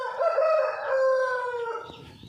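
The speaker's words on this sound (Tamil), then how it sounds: "கட்டு சேவல் வளர்க்குறாங்க, பெருஞ்சாதி கோழிகள்." A rooster, one of the fighting cocks or large-breed chickens kept at a guest-house property, crows loudly and close by in one long drawn-out call that trails off at the end.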